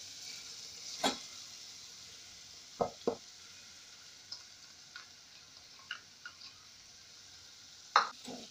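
Beef pilau sizzles faintly in a pan as rice is stirred in, with a soft steady frying hiss and a scattering of sharp scrapes and clinks from the spoon.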